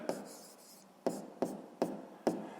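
A pen writing geometry edge labels by hand for a sixth-grade maths exercise, five short scratchy taps and strokes on paper in an uneven rhythm, close and fairly quiet, with no talking.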